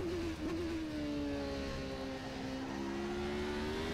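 A McLaren Formula One car engine in the racing game rFactor 2 drones steadily with a rising, slowly sliding whine, loud and continuous, with no voices.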